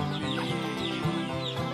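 Bantam rooster of a free-range garnise breed clucking in short repeated calls close by, with steady soft background noise throughout and no talking.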